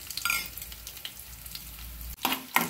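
Crushed garlic cloves and cumin seeds fry in oil for a Chettinad tomato chutney, a quiet sizzle punctuated by scraping stirs of a spoon in the pan, with a louder burst of crackling near the end.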